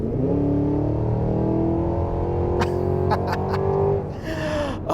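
A 2023 Cadillac Escalade V-Series engine revs loudly and close, holding a steady strong roar as it accelerates, with a few sharp crackling pops near the end before the note drops into a downshift.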